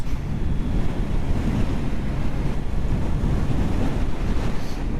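Strong crosswind buffets a motorcycle rider's microphone on the road, a continuous loud roaring rumble with gusty fluctuations throughout and no talking.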